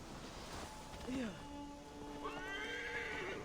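A horse in Assassin's Creed Valhalla whinnies twice, a rising-falling neigh followed by a longer, higher one, close and clear over soft ambient surf and faint hoof clops.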